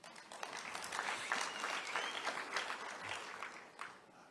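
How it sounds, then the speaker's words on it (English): An audience at a presidential social sector summit keynote breaks into applause. The clapping is sustained and fairly dense, swelling and ebbing slightly across the few seconds without anyone speaking. "I think we must applaud them for that"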